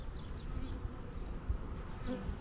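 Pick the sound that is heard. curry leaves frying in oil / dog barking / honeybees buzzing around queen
honeybees buzzing around queen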